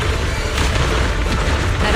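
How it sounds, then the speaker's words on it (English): A deep, rumbling boom rolls out in the video game Zenless Zone Zero, loud and sustained for about two seconds, with voices speaking over it. "Move in during the gaps between explosions."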